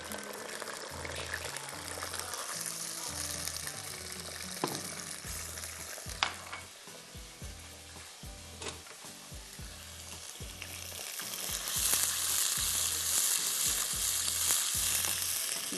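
Onions sizzling and frying in a pan with a little water, a steady crackling hiss that grows brighter and louder toward the end, with occasional stirring.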